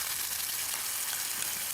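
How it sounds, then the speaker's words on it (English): Green curry sauce poured into a hot pan sizzles and fries steadily, a dense, constant hiss that fills the whole moment with no voices. "I literally just want to pour that in and let it sizzle."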